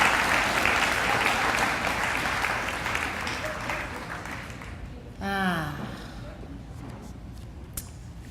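An audience at a live auction event applauds steadily, the clapping fading gradually, before a brief rising whistle or squeak and quieter room noise.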